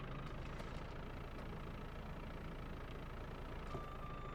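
A wheel loader's engine idles in Farming Simulator 22: a steady, mid-low mechanical drone, constant and fairly close, with small clicks and faint tones scattered over it.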